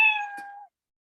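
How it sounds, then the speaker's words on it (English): A single short cat meow from the Scratch programming environment, clean and close, with a brief click partway through and silence after. "I just want to say meow."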